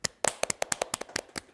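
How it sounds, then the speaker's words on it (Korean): Hand claps greet a biology teacher arriving at a school talk: about a dozen crisp, distinct claps at an uneven, quick pace, close and clear, with no voices over them. "박수로 맞이해 주시죠."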